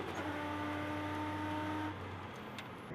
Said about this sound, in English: Usher, as we go on board and have a good listen to a V8 Ute.